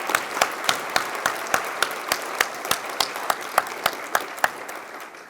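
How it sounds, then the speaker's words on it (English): Rhythmic, evenly spaced clapping at a chamber of commerce annual awards dinner, steady sharp claps in a regular beat for the award recipients over a low room murmur. "can we give everybody that received an award tonight another round of applause?"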